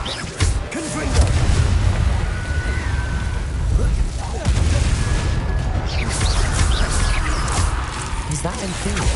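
A Confringo spell explosion in Hogwarts Legacy: a heavy low boom with rumbling crashes that keep rolling for several seconds under game music and effects.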